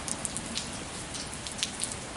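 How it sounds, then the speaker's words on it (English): Steady rain falls on a rainy day, a dense even hiss with scattered brighter drops and drips tapping close by, with no voices. "A rainy day."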